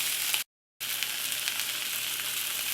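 A spinach-stuffed steak roll fries in a pan with a steady close sizzle, interrupted by a brief moment of silence before the crackling resumes evenly.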